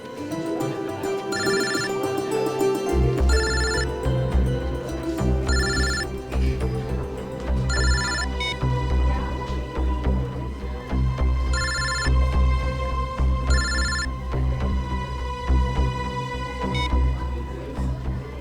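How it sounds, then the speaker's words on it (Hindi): A mobile phone ringtone rings in repeated bursts of a bright electronic melody, close and clear over a steady low backing. "कौन बार बार फोन कर रहा है?"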